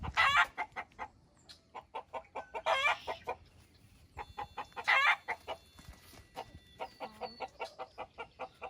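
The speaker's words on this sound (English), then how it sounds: "these are the chickens right here that were gifted to me" Backyard chickens perched on top of a cage cluck close by in a rapid, repeated series of short clucks, broken by a few longer squawking calls and brief pauses.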